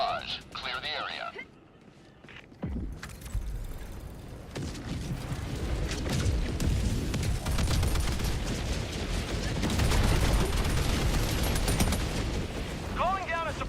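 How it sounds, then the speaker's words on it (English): Orbital barrage explosions in Helldivers, a string of heavy rumbling blasts and crackling booms building into a continuous roar after a short quiet spell, with a voice speaking at the start. "Firing orbital barrage. Clear the area."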